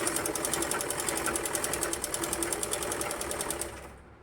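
A sewing machine stitches fabric in a steady, rapid mechanical rattle with a fine regular pulse, running for about four seconds before stopping abruptly.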